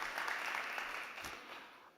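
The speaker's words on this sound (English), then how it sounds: "Can we have a big round of applause, please, one more time for Dmitry Lysenko." An audience applauds at the South Summit startup stage event: a steady, dense wash of clapping that holds for about two seconds before easing off slightly, with no talk over it.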